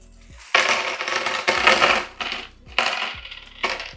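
Loose coins from a stuffed wallet are emptied out of a pouch during a cash-stuffing payday routine, giving several separate bursts of bright, jingling metallic clatter, close and fairly loud, with short pauses between pours.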